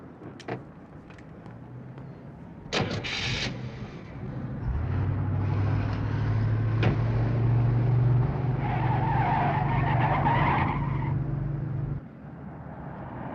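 A car from the 1981 film The Munsters' Revenge revs and pulls away hard with tires skidding, a loud sustained engine roar and squeal following a door-like thump, close and without talk.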